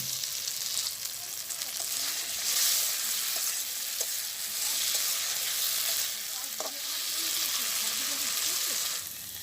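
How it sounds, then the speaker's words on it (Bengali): Taro roots fry in oil with salt and turmeric, making a bright, continuous sizzle with a few stirring knocks and faint speech in the background. "কচুরমুখীটা সুন্দর করে ভাজি হয়ে গেছে"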